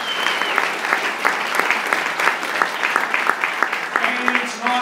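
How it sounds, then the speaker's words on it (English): Clapping from a meetup audience thanking a sponsor, lively and close, with distinct individual claps popping out of the crowd sound and a few voices mixed in toward the end. "This is where you clap the sponsor."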